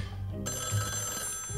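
A telephone starts ringing in the Luigi's Mansion 3 video game, an electronic ring that cuts in suddenly and holds steady over a low background hum.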